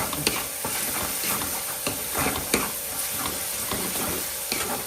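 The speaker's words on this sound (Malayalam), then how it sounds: "അപ്പോൾ അത് നന്നായിട്ടൊന്ന് പച്ചമണം പോകെ ഒന്ന് വഴറ്റി കൊടുക്കാം" Finely chopped ingredients sautéing in a pan, a steady loud sizzle with frequent scraping stirs and light clinks, close up.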